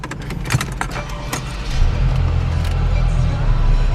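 A 2017 Mercedes-Benz C 300 4MATIC engine catches with a few clicks and key jangles at the start, then settles into a steady low idle rumble close by.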